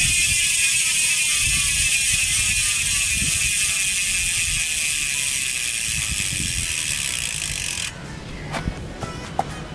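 Rear hub freewheel of a Troy X 10-speed bicycle spinning, a rapid continuous high ratchet buzz that runs steadily for about eight seconds, then slows into a few separate clicks.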